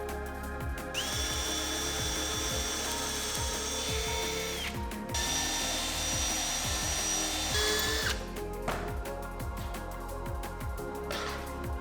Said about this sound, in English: We're ready to start drilling.